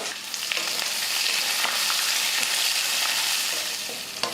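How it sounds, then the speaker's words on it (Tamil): Chopped onion, curry leaves and peanuts fry in oil in a pan, giving a loud, steady, close sizzle with a few faint scrapes of stirring throughout. "நல்லா பொன்னிறமாக வறுக்கட்டும் கூடவே கொஞ்சம் வேர்க்கடலையும் சேர்த்துக்கலாம்"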